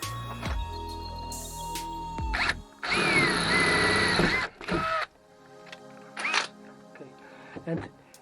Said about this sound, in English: especially when you drill such a big holes with hole saw